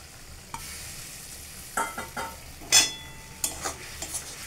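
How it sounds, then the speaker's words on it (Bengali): A drumstick vegetable (sajne data) dish with asafoetida dissolved in water is stirred in a pan, giving a few scattered scrapes and clinks over a faint, steady simmer. "এবার কিছুক্ষণ নাড়াচাড়া করে এটাকে রাখছি"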